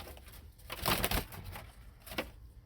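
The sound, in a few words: bird, likely pigeon, inside Ford F150 truck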